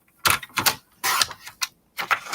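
Scissors cut a paper strip for a Christmas pop-up card craft, heard as several close, crisp snipping bursts separated by short pauses.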